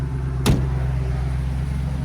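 A 1983 Jeep Scrambler with a swapped-in 5.3-liter LS V8 idles through its exhaust in a steady, deep low rumble, with one brief sharp knock near the start.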